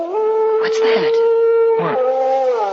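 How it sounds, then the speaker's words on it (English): A dog howls outside as a radio drama sound effect, two long wavering howls, clear and prominent, with people talking briefly between them. "Oh, that was just a dog"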